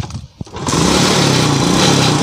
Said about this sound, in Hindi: भाई जान बाइक स्टार्ट हो चुका है भाई